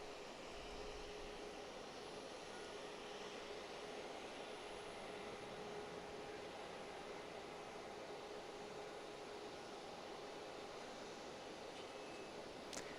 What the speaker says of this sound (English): There's another MAX 9 coming in.